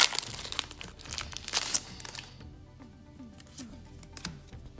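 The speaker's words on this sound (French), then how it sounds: "on prend les boosters, on va les déballer" Pokémon card booster packs from the Astres Radieux set are torn open and unwrapped, giving loud close crinkling and tearing of foil wrappers for about two seconds, then softer shuffling and handling of cards.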